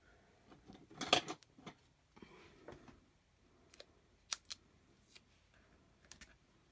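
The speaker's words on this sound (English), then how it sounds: "so I'm going to snip them down" Scissors snipping strips of foam pad, a handful of sharp, close, crisp cuts spaced irregularly with quiet gaps between, some single snaps and a few quick doubles.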